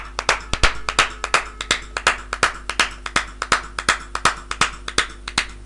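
Steady rhythmic hand clapping, close and distinct, with claps evenly spaced at a brisk pace for several seconds, like one person applauding alone.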